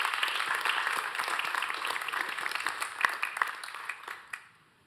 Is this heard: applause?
yes